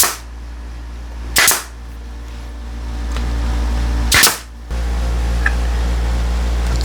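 Nail gun firing nails into a wooden harvest tray: two sharp, loud pneumatic shots several seconds apart, close up, over a steady low background hum with no talking.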